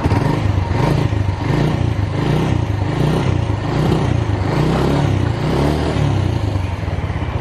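Suzuki Volty motorcycle engine revved up near the mic, a loud, sustained, slightly rough mechanical roar that rises and holds without pause.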